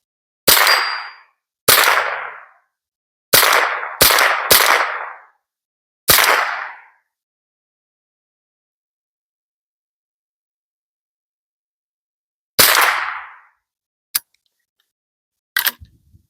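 Sharp gunshots from a .22LR AR conversion rifle at an outdoor range, six cracks in the first seven seconds at an uneven pace, then a long pause and a few more shots, with brief clicks between.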